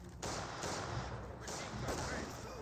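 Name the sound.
Maxim machine gun firing in video game Company of Heroes 2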